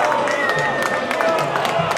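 Baseball crowd at UCLA's stadium during an NCAA Super Regional game, a steady murmur of many voices with scattered shouts and claps throughout, with no single cheer standing out.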